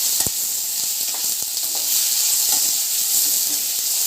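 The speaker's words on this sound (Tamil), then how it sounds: "இதை நல்லா வதக்கிக்கலாம்." Chilli parotta being sautéed in a pan gives a steady, close sizzle and hiss, with a few soft stirring clicks and no talk.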